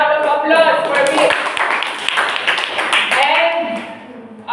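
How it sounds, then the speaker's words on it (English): A classroom applauds a student during a teaching demonstration, with a burst of clapping lasting a couple of seconds, framed by a teacher's nearby voice before and after. "let's give her a round of applause for Mitch"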